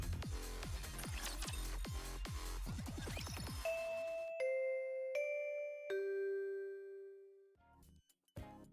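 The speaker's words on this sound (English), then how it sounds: "The bell rings, signaling the end of classes." Chiming school bell from the game NIKKE rings out for the end of classes, a rapid run of bright struck tones giving way to several long, ringing sustained notes that fade into quiet.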